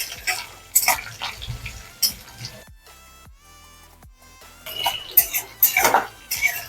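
A spoon scraping and clanking against a pan while a tempering of chillies, mustard seeds and curry leaves is stirred for kanda poha, sharp metallic knocks in bursts with a quieter pause in the middle.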